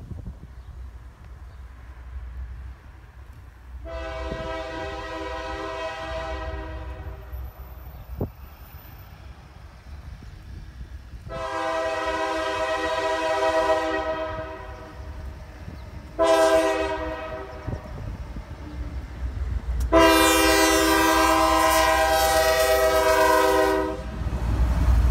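A CSX freight train rumbles past steadily while its horn sounds in four long blasts, the last loudest and nearest, over continuous rolling wheel noise.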